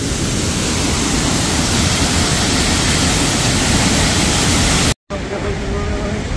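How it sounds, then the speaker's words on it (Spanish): Iguazú Falls thunders close by, a loud, steady, broadband roar of falling water that cuts out for an instant before resuming. "Que te caiga entonces toda la cascada encima."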